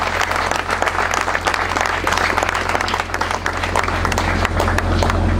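At a commemoration celebrating fourteen years of a Congolese organisation, a crowd claps loudly and continuously, dense applause filling the room over a low steady hum.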